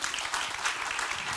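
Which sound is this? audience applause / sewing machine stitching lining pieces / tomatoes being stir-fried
audience applause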